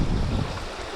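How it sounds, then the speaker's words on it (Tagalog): Big waves on a rough, overcast sea roll past in a low, wind-buffeted rumble that swells and then eases within a second, with no voices. "At malalaki pa rin talaga yung alon."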